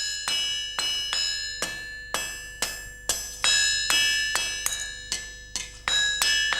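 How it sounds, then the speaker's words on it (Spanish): A blacksmith hammers a flat iron bar into a hinge at the forge. About twelve sharp, ringing metallic strikes come at a steady rhythm, each decaying into a bright ring before the next blow, close and alone with no talk. "el herrero va a forjar una bisagra"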